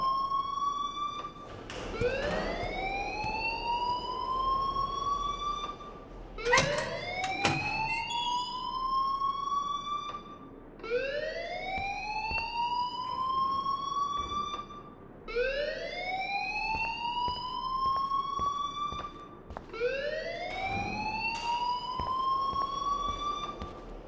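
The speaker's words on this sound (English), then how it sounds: "please turn off that alarm since that's your job" Rising, wailing siren-like alarm in the Life Is Strange video game, repeating about every four seconds in five or six sweeping cycles, loud and continuous with faint background sounds.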